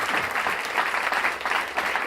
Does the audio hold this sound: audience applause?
yes